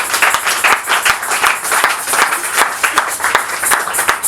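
A church congregation claps and applauds together in steady, dense bursts, the sound filling the room evenly for several seconds.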